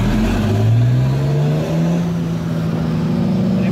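A Komatsu HD785-7 heavy-duty dump truck engine revs nearby, a loud, continuous droning roar that climbs steadily in pitch and holds high, with no voices over it.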